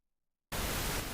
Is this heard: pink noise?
yes